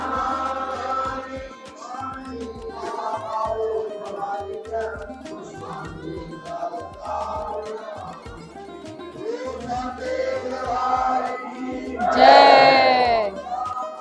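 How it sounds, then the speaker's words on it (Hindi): A crowd of devotees gathers during the aarti at Chamunda Devi temple in Himachal Pradesh, a dense murmur of many voices with chanting and ringing tones, building to a louder burst of voices near the end. "जब हम यहाँ पहुँचे तो माता की आरती चल रही थी और श्रद्धालुओं की काफी भीड़ थी"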